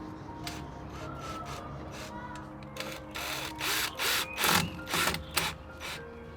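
Drill boring holes to fix branch supports in a finch aviary, several short whirring bursts that grow louder and more frequent in the second half over a quiet background.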